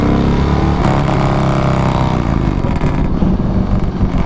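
A Harley-Davidson Softail M8 motorcycle fitted with Bassani True Duals exhaust rumbles loudly and steadily while being ridden, a deep, constant engine roar mixed with wind noise.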